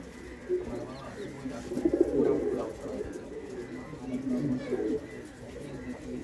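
Pigeons at a pigeon sale in Bangalore coo in low, throaty, repeated rolls close by, overlapping in soft waves with people talking alongside.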